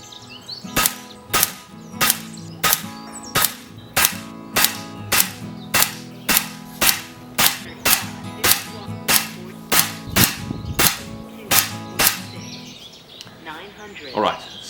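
FX air rifle in .177 firing slugs: a long series of about fifteen sharp, evenly spaced shots about one second apart, each a crisp crack with a short ring, with a low hum underneath.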